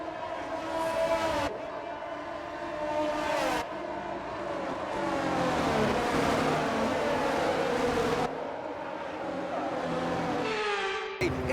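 Formula 1 cars on the Monaco formation lap in a racing video game, with high engine whines rising and falling as gears shift, one car loud and close between abrupt cuts, no talk.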